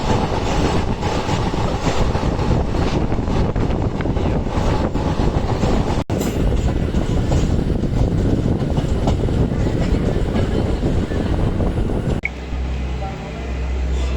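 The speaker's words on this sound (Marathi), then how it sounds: "तर आता ट्रेन आपली लोणंद जंक्शनवर आलेली आहे" An Indian Railways express, the Koyna Express from Mumbai to Kolhapur, rolls into Lonand junction with steady loud rumble and wheel clatter throughout, a sharp shift in tone midway and a quieter, lower hum at the end.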